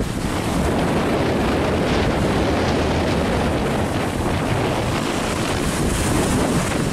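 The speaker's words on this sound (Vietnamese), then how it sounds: "sóng nó đánh nhiều lúc là lên tới trên mé này luôn á các bạn." Storm waves pound and wash against a fishing boat at sea under heavy wind, a dense, continuous roar of churning water that stays loud and even for several seconds.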